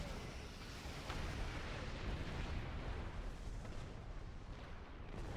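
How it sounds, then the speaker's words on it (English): An explosion near a starbase in the Star Trek Online video game, a sustained, loud, rumbling blast that fills the scene for several seconds with no talk over it. "And the explosion did nothing to the starbase."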